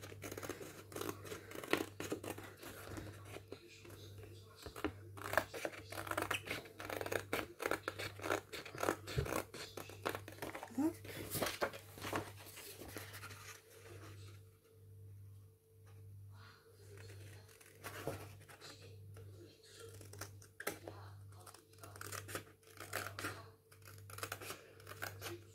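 Paper being cut with scissors or a cutter while making a camera bellows: faint, close snips and scratchy slicing strokes repeat in irregular bursts, with quieter pauses between.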